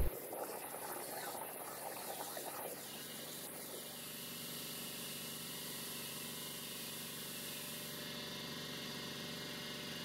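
A Langmuir Systems CrossFire CNC plasma table cuts metal over a water table, starting with a few short hissing, sputtering bursts, then settling into a steady, continuous hiss and hum.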